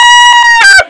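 A chicken in extreme cold at a high-altitude Wyoming homestead gives a close, loud run of rhythmic clucks rising into a brief squawk, alone and cut off abruptly.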